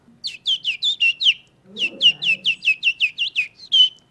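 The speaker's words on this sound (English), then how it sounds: "I think that's a robin redbreast." Two bursts of bright, rapid bird song from a European robin, a run of about six quick warbling phrases, a brief pause, then a longer run of around ten. The singing is fairly close and clear over faint low murmuring.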